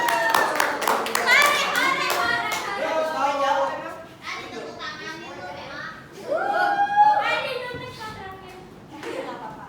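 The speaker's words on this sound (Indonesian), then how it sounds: "kasih tepuk tangan dong buat kelompok 3" Children in an Indonesian classroom clap for group 3 during a microteaching lesson, a burst of scattered hand claps near the start that fades within a few seconds, mixed with kids' chatter and voices throughout.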